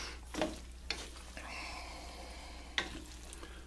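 Israeli couscous being mixed with vegetables and sriracha hot sauce in a pan: quiet, soft stirring and scraping punctuated by several sharp utensil clacks against the cookware, close and fairly faint.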